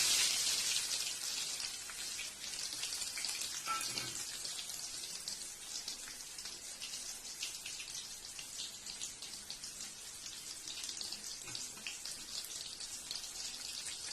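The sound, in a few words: chopped onion frying in oil with mustard seeds and chilli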